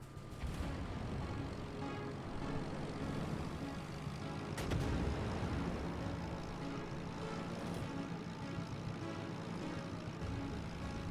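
Aircraft engines drone steadily in the World of Warships naval battle game, a continuous propeller roar with a brief louder swell midway and no voices over it.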